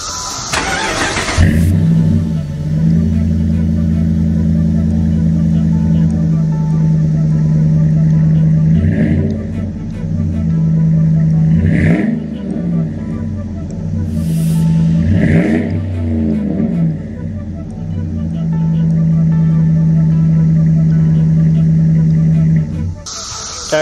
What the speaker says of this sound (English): I'ma start it up for y'all again and give it some more gas. Give it some gas so y'all can hear it.